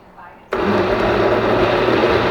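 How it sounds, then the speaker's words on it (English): A blender whirring through butternut squash soup starts suddenly and holds a loud, steady high-pitched roar. "let's give this a blend because there's plenty in here now"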